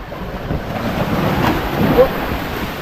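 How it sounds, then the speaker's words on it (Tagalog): Rough sea with large waves heard from a small tuna fishing boat during strong monsoon winds, a continuous wash of surf and wind buffeting with one louder surge near the end. "malalaki talaga ang alon"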